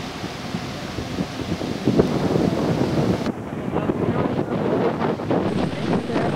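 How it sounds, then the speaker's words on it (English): Strong wind buffets the microphone on top of the tallest pyramid at Ek Balam, a site under restoration, producing a loud, continuous roar with gusty rumbling throughout. "As you can see, the wind was quite strong at the top."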